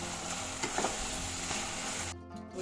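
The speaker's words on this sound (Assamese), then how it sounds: "গোটেইখিনি চব্জি মছলাই ভালদৰে ভাজি ল'লোঁ" Vegetables fry in a pan with turmeric, coriander, cumin and red chili powder for an aloo potol dalna, giving a steady close sizzle with faint stirring scrapes, ending abruptly.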